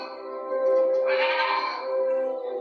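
A goat gives one drawn-out, quavering bleat up close, rising and then tapering off over a couple of seconds in an otherwise quiet setting.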